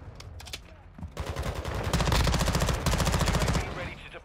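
Sustained automatic gunfire in the video game Modern Warfare 2, a few scattered shots building into a loud, rapid stream of rounds close by that holds steady before easing off.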